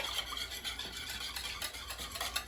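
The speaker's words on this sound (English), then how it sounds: "I'm going to give that a nice whisk." Eggs whisked into a batter mixture in a bowl, a steady brisk scraping and swishing that runs continuously at close range with no voices.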